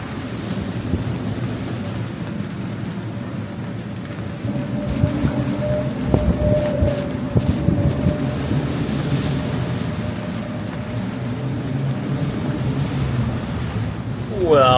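Steady rain and gusting wind roar over a sailboat at a yacht club as a storm arrives, a constant broadband wash with a faint low rumble of distant thunder underneath.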